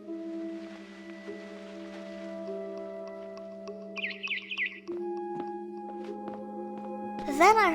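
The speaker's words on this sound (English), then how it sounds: "Then I heard chirping outside my window." Barn swallow chirps from the video game What Remains of Edith Finch, a few short bright calls over a steady tonal music bed, with a louder burst near the end.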